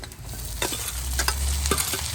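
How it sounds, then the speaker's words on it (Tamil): Onions and curry leaves fry in a pan with steady sizzling, broken by a few scraping strokes of a stirring spoon, close and moderately loud with no voices. "வெங்காயத்தையும் கருவேப்பிலையும் போடுறேன்."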